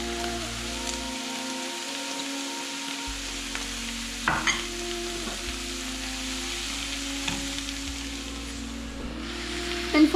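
Vegetables frying in a pan with grated carrots about to be added, a steady soft sizzle with faint stirring and utensil clicks throughout, no talking.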